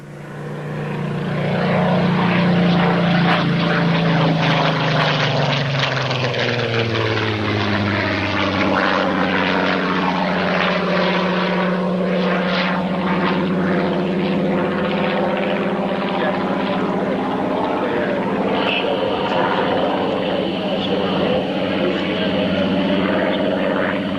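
A Supermarine Spitfire Mk XVIII drones loudly overhead, its engine pitch sliding downward as it passes and continuing to roar steadily nearby.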